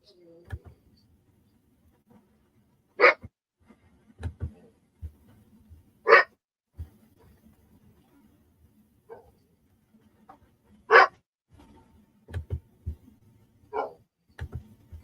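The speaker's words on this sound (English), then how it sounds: "You don't even hear your dog barking, do you?" A dog barks intermittently in sharp single and paired barks, somewhat distant and indoors, spaced several seconds apart among low background rumble and quiet murmurs.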